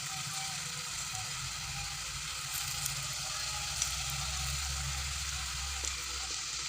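Spiced masala peanuts deep-frying in hot oil, a faint, steady bubbling sizzle with light crackles and occasional small pops, no voices.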